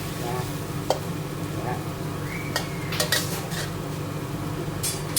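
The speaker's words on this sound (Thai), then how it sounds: "ผัดให้เนื้อก็สุกก่อนครับ ผัดเผ็ดปลากระเบน" Stingray meat being stir-fried for a spicy Thai stir-fry, with a utensil scraping and clinking against the pan in a few sharp knocks over a steady low kitchen background.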